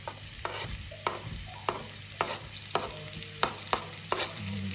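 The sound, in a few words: sliced onions frying in hot oil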